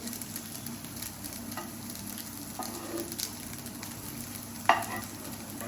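Puffed rice vegetable patties fry gently in a little oil, a steady, quiet, close sizzle with an occasional small pop or crackle.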